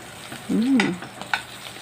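Dried salted fish (tuyo) frying in a pan is flipped over, a soft steady sizzle with a couple of brief scraping knocks; no talking.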